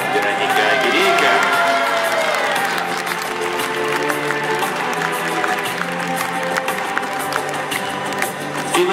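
Audience applause fills a ballroom hall for couple number 361 at the Minsk Open youth (under 19) Standard dance competition: a dense, steady wash of clapping held for the full stretch, with tonal background sound layered underneath.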